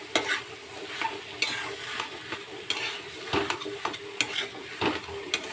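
Sandwich filling stirred and mixed in a hot pan over a raised gas flame, a continuous sizzle with frequent scraping and clinking spatula strokes close by, with no talk.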